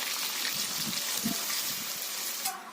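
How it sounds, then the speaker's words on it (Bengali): Water poured into a pan of frying pointed gourd and potatoes gives a steady hissing gush and sizzle for a few seconds, then tapers off. "এতে আমি দিয়ে দেব পটল আলু সিদ্ধ হওয়ার মতো জল"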